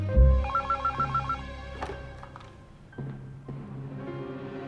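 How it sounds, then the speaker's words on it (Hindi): A telephone rings in a drama scene after a call is placed, a quick rapid burst of electronic trills followed by a dial tone and muted clicks, loud and close with no talk. "डॉक्टर तारमी को फोन मिलाओ"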